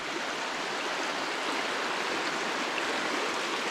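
Steady broadband rush of a creek flowing close by, a continuous even wash of water with no breaks and no voices.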